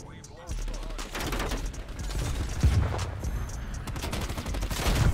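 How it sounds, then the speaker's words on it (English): A sentry gun firing in Call of Duty: Cold War, a dense rattling stream of automatic shots that keeps going for several seconds at close range, with a voice speaking over the fire. "There's a sentry gun right behind me."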